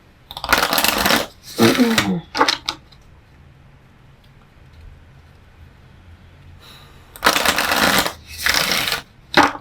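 Tarot cards shuffled by hand during a reading, crisp riffling bursts near the start and again toward the end with a quiet pause between, up close and clear.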